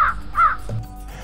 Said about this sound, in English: this bird talks to me